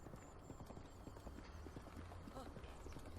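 A horse trots in The Legend of Zelda: Breath of the Wild, a steady rapid clip-clop of hooves under a quiet game ambience, close and continuous.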